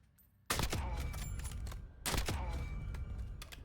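Two loud, sharp sniper rifle shots in a video game, each a sudden crack followed by a long booming echo tail, spaced about one and a half seconds apart.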